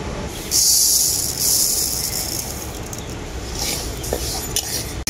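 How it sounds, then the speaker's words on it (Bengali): Dry mung dal being roasted in an empty wok, with a steady scraping and rattling of lentils and a metal spatula against the pan, close and fairly loud, louder bursts coming and going over about five seconds. "মুগ ডালটা আমি এখন শুকনো কড়াই ভেজে নেব।"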